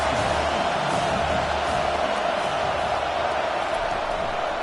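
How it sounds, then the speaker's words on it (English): A college football stadium crowd roars as one continuous, loud, wide wash of noise, with no distinct cheers standing out. A commentator can be heard talking. "This crowd trying to make life miserable for this offense."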